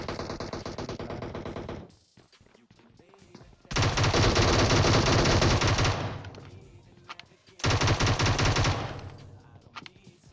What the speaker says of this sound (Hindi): अब मैं प्री फायर देता हूँ यार, दो गोली लग भी जाती है